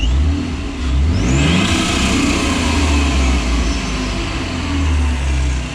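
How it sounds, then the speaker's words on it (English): A supercharged Jeep JK engine fitted with a RIPP supercharger revs up loudly and holds a strong, steady roar close by, with a rising supercharger whine as it climbs, no voices. "Give her some revs when she comes up."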